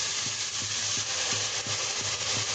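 Masala for nargisi kofte fries steadily in oil in a pan with a constant sizzling hiss, while curd goes in and a spoon scrapes in a light, regular stirring rhythm.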